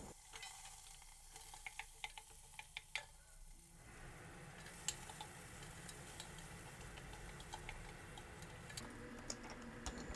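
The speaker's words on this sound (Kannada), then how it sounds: "ಫಸ್ಟ್ ಆನಿಯನ್ ಹಾಕಿ ಚೆನ್ನಾಗಿ ಬಾಡಿಸ್ಕೊಳ್ಳೋಣ" Onions frying in oil in a pan for a Karnataka-style rice bath: a steady close sizzle, with scattered ticks and clicks of stirring, grows denser and louder partway through.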